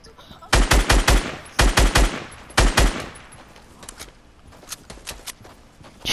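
Bursts of automatic gunfire in Fortnite Battle Royale: three loud clusters of rapid shots in the first seconds, followed by quieter, scattered distant shots and a low background rumble.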